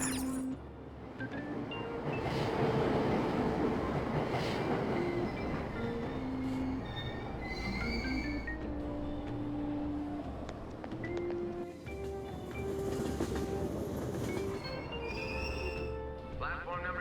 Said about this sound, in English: Train doors are now closing. Please stand back.